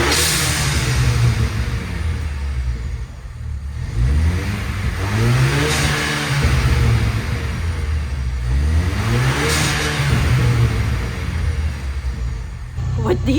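A 2021 Ford Bronco fitted with a Steeda blow off valve adaptor rumbles loudly up close from a cold start, then climbs through three rising revs, each settling back with a whooshing release, while voices talk faintly underneath.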